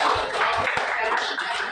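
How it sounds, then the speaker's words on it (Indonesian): A classroom gives a presenting group of students a round of applause, dense steady clapping from many hands mixed with voices. "tepuk tangan dulu untuk kelompok"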